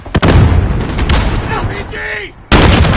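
A frag grenade goes off in Call of Duty Modern Warfare, with heavy, dense battle noise of booming blasts and gunfire throughout, dipping briefly before a sudden loud broadband burst near the end.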